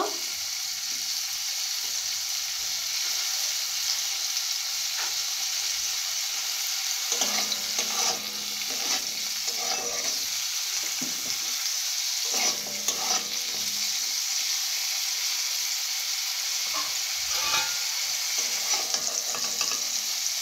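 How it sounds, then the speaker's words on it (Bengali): Pieces of food fry lightly in a pan with a continuous close hiss of hot oil, broken now and then by the clatter and scrape of stirring. "ভালো করে ভেজে নেব।"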